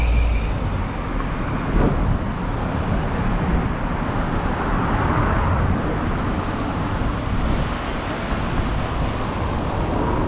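Vehicles crossing the repaired Athi River bridge after floods, a continuous broad rumble of passing traffic with wind buffeting the microphone, steady and fairly loud throughout.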